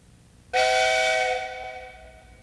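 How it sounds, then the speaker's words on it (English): A train steam whistle blows once, a loud, clear, sustained tone that starts abruptly and then slowly fades, heard alone with no voices. "Did you get your whistle fixed, Mr. C?"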